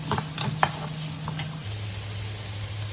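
Pork being stir-fried with long beans for a Thai khua kling dish, the spatula scraping and stirring over a steady sizzle, with a few light clinks against the pan, close and continuous.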